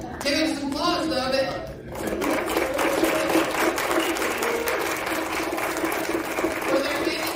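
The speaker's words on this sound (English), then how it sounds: "Give him some applause" Audience applause at a real estate investing talk, a steady wash of clapping that swells after a brief spoken introduction and continues evenly to the end.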